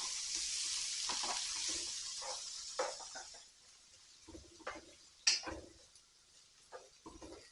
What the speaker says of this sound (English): we're going to put in the onion, tomatoes, the chili, garlic there, all in the one pan.